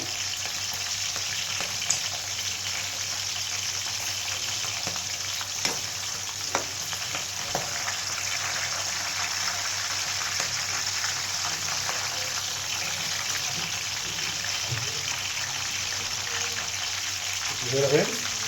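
Black chillies sizzle steadily in hot oil for a kala mirchi pachadi as tomato pieces, turmeric and cumin go in, with a constant loud frying hiss, scattered small pops and a brief stir or rustle near the end.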